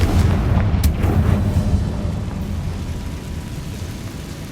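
A Confringo fire spell blasting in Hogwarts Legacy: a loud, deep explosive boom with a sharp crack near the start, then a heavy low rumble slowly fading away.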